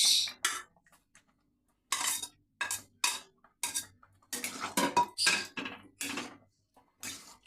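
A spoon stirs food in a kadai where mango leather and dates have been added, giving sparse, irregular metallic clinks and scrapes in quick short bursts against a quiet background.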